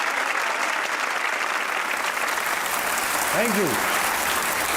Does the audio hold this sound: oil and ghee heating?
no